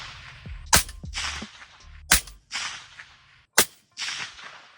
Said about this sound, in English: I think I want to go ahead and shoot the rest of these and just see how they group